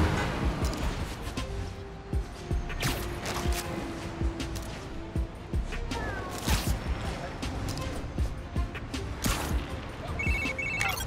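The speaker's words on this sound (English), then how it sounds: "Miles, Haley texted me." A phone text alert chimes in Spider-Man Miles Morales gameplay, a short bright ringtone near the end, heard over busy combat thuds, crashes and game noise.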